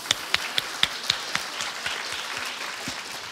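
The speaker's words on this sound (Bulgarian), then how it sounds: "Иванина, помахай да те ръкопляскат, моля ти се." Audience applause at a concert award ceremony: a few sharp, distinct claps at first, then settling into a steady, moderately loud wash of clapping from a crowd.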